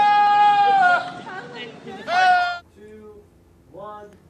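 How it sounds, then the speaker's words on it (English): Goats bleat loudly in wavering, quavering cries, one long call followed by a second shorter burst and fainter trailing bleats, close and clear without other talk, on a late-night comedy show. "I'm going to have to take those goats out to the farm"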